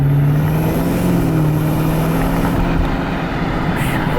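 A loud, steady engine drone with a sustained low hum from a 2019 Camaro ZL1 1LE with a Roto-Fab cold air intake, heard from inside the moving car, fairly constant throughout.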